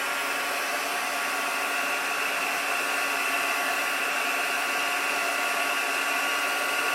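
A heat tool blows air steadily to melt embossing powder for a watercoloured card, giving a continuous, loud, even hiss and whir with no breaks and no talking.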